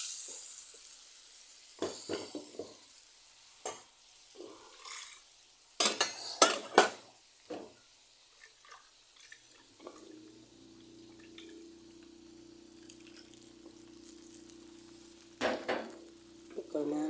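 Ground coriander leaf paste stirred in a frying pan, with a spoon clinking and scraping against the metal in short bursts, then a steady, moderate sizzle as the paste fries.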